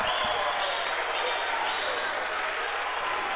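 A basketball crowd at a Storm home game roars and applauds steadily, a loud, sustained wash of cheering and clapping from the arena stands.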